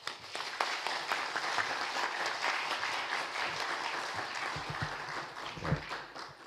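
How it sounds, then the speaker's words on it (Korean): A church congregation breaks into sustained, warm applause to welcome a pastor to the front, dense clapping from a large crowd filling the room throughout. "목사님 나오실 때 여러분 격려의 박수로 또 반가움으로 맞아주시기 바랍니다"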